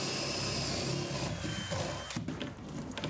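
A power drill bores a new set of holes during the interior build of a garden room, a loud steady whirring grind that shifts in pitch partway through, close up and continuous.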